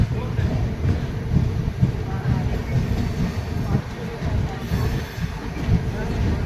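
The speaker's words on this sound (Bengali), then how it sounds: "ট্রেন আমাদের বক্সার স্টেশন পৌঁছে গেছে।" An express train from New Delhi to Malda Town rolls into Buxar station with a steady low rumble, rattling wagons and faint wheel clatter close by, while people talk over it.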